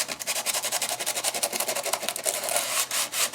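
Sandpaper rubbed briskly back and forth over a mixed media paper surface, a rapid rhythmic scratchy rasp of short strokes, close and fairly quiet with no voices.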